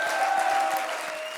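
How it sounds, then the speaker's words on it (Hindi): A brief burst of audience applause: dense clapping at a steady level throughout, with no talking. "एक बार जोरदार तालियां इनके लिए"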